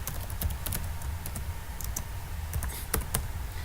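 Computer keyboard being typed on while writing a program, a steady run of quick, light key clicks at close range with a few louder taps, no talking.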